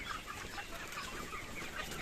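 Hens and roosters cluck in a dense, continuous chorus nearby, with soft overlapping calls and no people talking.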